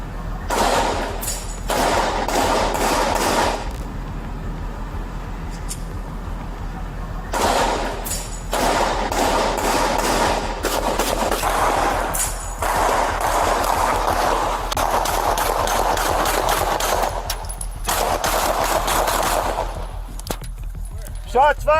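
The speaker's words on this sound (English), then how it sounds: "Shots fired. Officer needs help." Gunshots ring out near a strip mall, loud sharp cracks in rapid clustered volleys recurring over about twenty seconds amid shouting and radio chatter from a police encounter.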